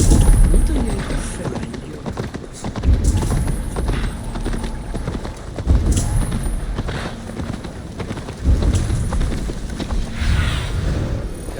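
Horse hooves clip-clop in quick, steady rhythm in Assassin's Creed Valhalla, close and prominent, with heavier thuds every few seconds and faint voices in the background.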